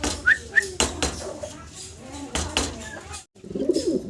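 A male Lahori pigeon cooing in short, soft calls, mixed with light clinks and clatter nearby, with a brief quiet gap near the end.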